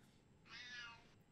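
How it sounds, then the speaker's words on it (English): A cat gives one clear, drawn-out meow of just under a second, faint and distant against a quiet background with no talking. "Shout out to King's cat for the backup vocals"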